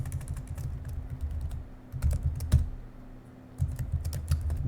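Rapid typing of keywords on a computer keyboard, dense clusters of clicking keystrokes with short pauses over a low hum, no voices.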